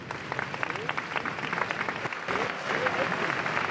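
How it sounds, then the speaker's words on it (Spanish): Emotional crowd applause outside a church during a funeral in Ávila, dense and steady throughout with a distant mix of voices underneath. "El aplauso de los abulenses emocionados"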